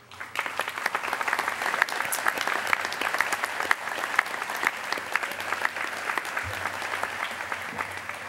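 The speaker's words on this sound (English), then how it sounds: "we'd like to give you a round of applause also" Seated audience at a county State of the County address gives a sustained round of applause for special district representatives, steady dense clapping throughout at moderate loudness, with no talk.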